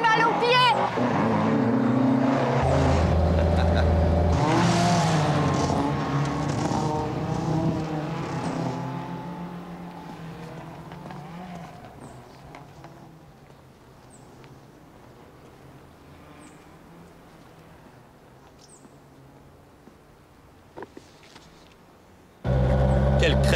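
A car driving along a country road, its engine roaring loudly and close at first, then fading to a distant, quieter hum before a sudden loud return at the end, with voices speaking over the noise.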